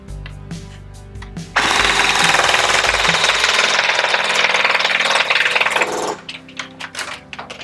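An E&L AK-74N airsoft rifle at a chronograph station, firing a sustained burst of rapid mechanical clatter for about four and a half seconds, with scattered single clicks and handling noise before and after.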